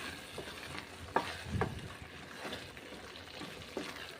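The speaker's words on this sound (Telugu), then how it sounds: "మధ్య మధ్యలో కలుపుతూ ఉండాలండి లేదంటే అడుగు పట్టేస్తుంది" A spoon scrapes and stirs carrot halwa with sugar in a pan, making soft, irregular scraping strokes over a gentle sizzle. The sound is close and fairly quiet, with no talking.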